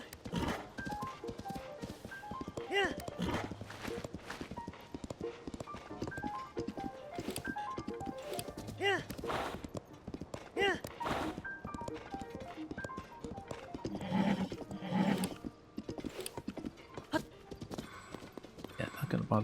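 Horse hooves clip-clop in The Legend of Zelda: Tears of the Kingdom under steady game music, with a continuous hoof rhythm and some louder thumps near the end.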